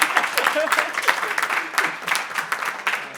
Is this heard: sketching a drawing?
no